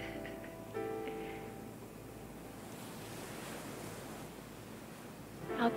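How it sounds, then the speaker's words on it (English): Ocean waves wash in soft, distant surf, a faint broad rush with some wind across the microphone and a swell near the end. "I even hear waves."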